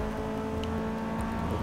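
A race car engine in Forza Motorsport 6 holds a steady, loud, sustained drone with rising harmonics as it accelerates, continuous throughout with no voices.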